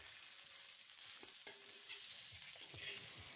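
Kalonji seeds, coconut paste and chopped green chilies frying in oil in a kadai, a soft steady sizzle with scraping stirring strokes and occasional small clicks of the spatula.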